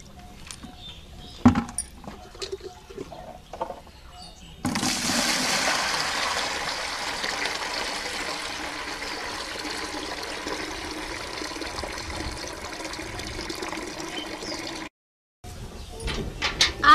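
Dirty water from soaked paddy seed is poured and drained away in a steady rushing stream lasting several seconds, close and fairly loud, with scattered knocks before it starts and a brief cutoff near the end.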